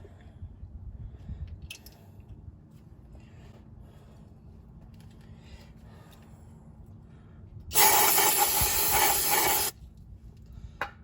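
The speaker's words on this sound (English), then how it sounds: "Hit it one more time with brake cleaner, that way there's no grease on that seal or that seam" Brake cleaner blasts from an aerosol can onto a CV joint boot in one steady, loud hiss lasting about two seconds, following quieter workshop handling noises.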